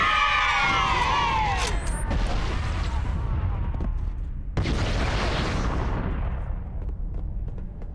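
Explosions in the Halo video game from a grunt blowing up after a plasma grenade hit, a heavy boom with a rumbling tail followed by a second loud burst and fading debris, alongside synthetic whines and game effects.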